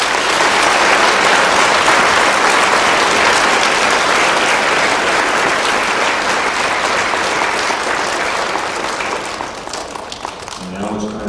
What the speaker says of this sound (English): But one more round of applause for our girls.